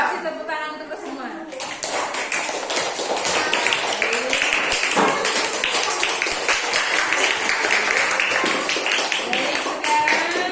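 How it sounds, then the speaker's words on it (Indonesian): A class of students claps their hands together in a classroom, a dense, loud round of applause that starts after a brief pause and carries on steadily to the end. "Kasih tepuk tangan untuk ke semua."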